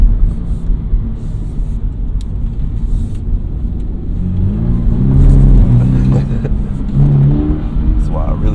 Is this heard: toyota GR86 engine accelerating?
yes